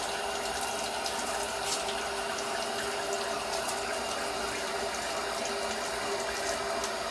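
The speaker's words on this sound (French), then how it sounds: "Puis on rince comme il faut à l'eau tiède chaude" Warm tap water runs steadily from a faucet as hands are rinsed at a sink after soaping, a constant close splashing hiss with no voices.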